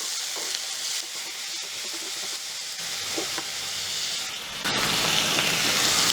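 Onions and tomatoes sauté in a pan for an okra tamarind curry, with a continuous close sizzle and hiss, occasional stirring scrapes, and the frying swelling louder near the end.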